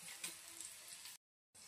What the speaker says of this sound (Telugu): చీలుకున్న పచ్చిమిర్చిని పోపులో వేసుకున్నా.